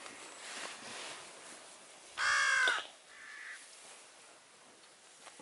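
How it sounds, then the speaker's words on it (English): A crow calling outdoors on a rainy morning at a tarp campsite on Dartmoor, one loud, harsh caw followed by a fainter second call, set against a soft background patter. "That was a bird."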